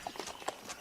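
Horse hooves clip-clop as a tabletop roleplaying game sound effect, a short run of quick, uneven clopping beats at moderate volume with no talk.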